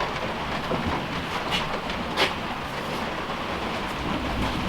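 Heavy rain pours steadily over a flooded building project, a dense, unbroken hiss with occasional louder splashes and no voices.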